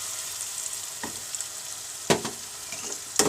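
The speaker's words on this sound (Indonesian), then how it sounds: "Kemudian masukkan 2 sudu makan serbuk kari yang sudah dilarutkan dengan air." Curry powder paste sizzles in a pan with shallots and garlic, a constant hiss of frying broken by a few sharp spatula scrapes and clanks as it is stirred.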